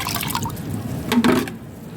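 Rice starch water is poured out for homemade garden liquid fertilizer, giving a short, soft liquid trickle and splash that swells briefly near the middle before fading.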